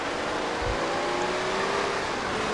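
A car engine drives steadily in GTA San Andreas, a continuous loud motor hum with no one speaking over it.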